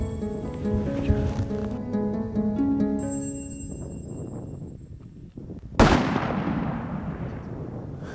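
A single loud, sharp rifle shot fired at a ram during a hunt, followed by a rumbling echo that fades, coming after a stretch of music and quiet outdoor ambience.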